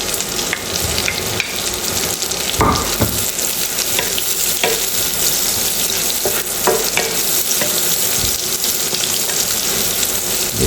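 Onions fry in a pan for a chicken fillet dish, a loud, dense, continuous sizzle close by, with occasional scrapes and knocks of a spatula stirring them and no talking.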